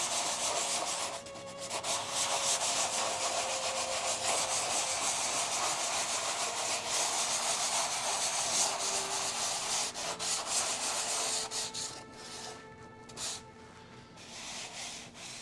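Dried drywall compound is sanded off the edges of a stretched canvas for a mixed media abstract landscape, giving a steady, close, continuous gritty scraping with no talk.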